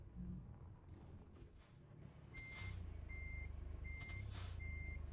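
A truck's reversing alarm in American Truck Simulator sounds four evenly spaced beeps, each paired with an airy hiss, over a steady low engine rumble.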